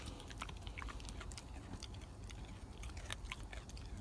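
A dog gnawing on a morning chew at a winter debris-village camp, with close, steady crunching and clicking bites repeating throughout.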